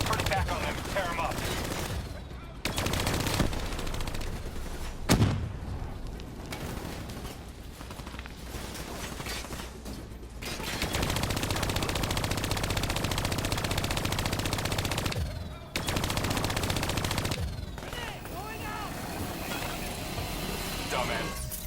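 Sustained machine gun turret fire in a futuristic shooter video game, long dense rattling bursts broken by short gaps, loud and continuous, with game dialogue mixed in.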